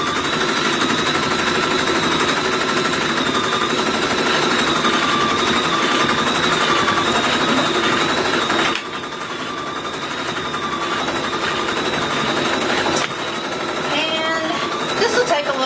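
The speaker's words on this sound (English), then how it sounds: "And now I'm just going to start stitching." A sewing machine runs close and continuously while quilting a Christmas stocking edge to edge, its fast whirring stitch pausing briefly twice. A voice talks over part of it.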